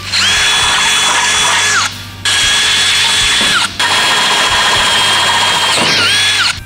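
A power drill boring holes for riv nuts in a Jeep Wrangler JK while fender flares are fitted, a loud close whine in three long runs with brief pauses and the pitch dipping as each bit bites through.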